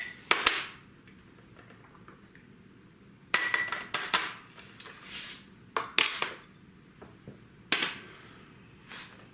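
Spoon or utensil clinking against a bowl while a mashed garlic mixture of about four cloves is stirred, a handful of sharp, irregular knocks separated by quiet pauses, close and fairly crisp with no voices.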